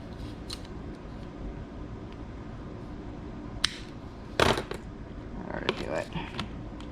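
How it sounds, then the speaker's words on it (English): Scissors snip plastic tubes at a slant, a few sharp close cuts and creaks over low steady room noise, without speech. "Whenever you're cutting these tubes, you kind of want to"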